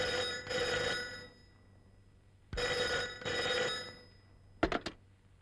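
A telephone rings in two long bursts separated by a pause, moderately loud and alone, followed by a short clatter as the receiver is picked up.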